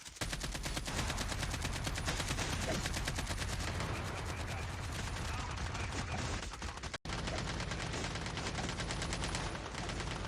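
Dense, rapid gunfire from the Undead Siege mode of COD Mobile, loud and continuous for about ten seconds with overlapping bursts, cutting out briefly near the end before resuming.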